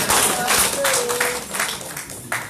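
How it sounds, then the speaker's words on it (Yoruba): A church congregation at a Yoruba Christian fellowship Sunday service claps for Jesus: dense, loud, continuous hand clapping filling the room, with voices mixed underneath. "Ẹ pàtẹ́wọ́ fún Jésù náà yọ."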